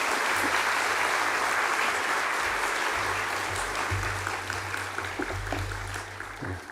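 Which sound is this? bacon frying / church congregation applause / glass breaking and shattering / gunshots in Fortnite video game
church congregation applause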